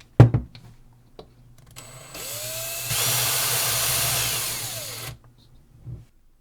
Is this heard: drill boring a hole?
yes